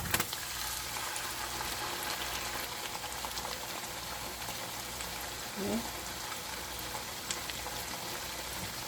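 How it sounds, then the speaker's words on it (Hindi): Marinated chicken frying in a pan, a soft, steady hiss of sizzling oil with faint crackles, fairly quiet and even throughout, with no talk over it. "तो अब इस वक्त हम सारा जो मैरिनेट किया हुआ चिकन है वो ऐड कर देंगे"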